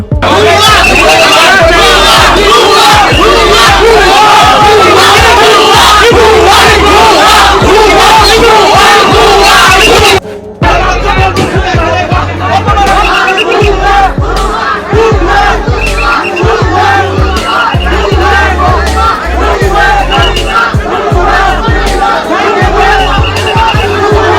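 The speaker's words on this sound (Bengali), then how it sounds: "বুবলিকে বোয়া বোয়া ইঁদুর মুখী স্লোগান দিয়ে অনুষ্ঠান থেকে বের করে দিল সবাই" A large crowd chants slogans in loud, continuous unison to drive an actress named Bubly out of an event, the massed voices roaring steadily with a brief dip midway before resuming.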